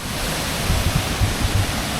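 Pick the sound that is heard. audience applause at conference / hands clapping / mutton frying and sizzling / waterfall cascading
waterfall cascading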